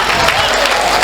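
Audience at a live Hindi comedy show claps in a dense, steady burst of applause that fills the whole moment, loud and close.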